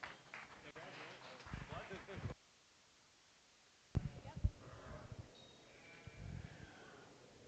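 Sheep bleat intermittently at a breeding sheep show at the National Western Stock Show, with an announcer's voice and crowd noise around them and a quiet gap partway through.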